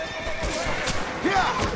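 A horse neighs in Red Dead Redemption, played on PS5, with a loud whinny rising over hoof clip-clops and other game sounds close by, while a voice speaks over it.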